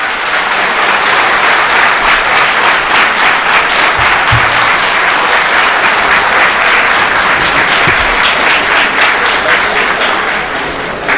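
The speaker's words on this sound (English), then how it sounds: "The applause says it all." A large audience applauds a pioneering heavy water scientist at the silver jubilee celebration of the Aswapuram heavy water plant. The clapping is loud, dense and continuous, filling the hall for about ten seconds.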